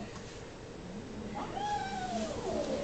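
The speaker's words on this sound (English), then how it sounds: "Those are the little kittens that are making all the noise in the background." A lilac Siamese mix kitten meows loudly at an animal shelter, a rising then falling cry that stretches out near the end, with quieter mews just before.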